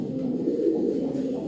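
Pigeons of a feather-footed breed coo steadily in a low, throaty drone, several birds overlapping close by with no pause for the whole stretch.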